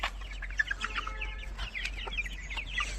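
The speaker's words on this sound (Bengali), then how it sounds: "আমি উন্মুক্তভাবে মুরগিগুলো পালার চেষ্টা করি," Free-range chickens cluck and chatter in short, irregular bursts at moderate distance over a low steady hum, with no one talking.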